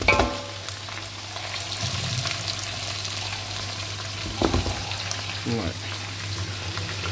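Beef nalli with ginger garlic paste and onions fries in a large pot for Karachi-style nihari, giving a steady loud sizzle over a low hum, with a couple of scraping stirs partway through.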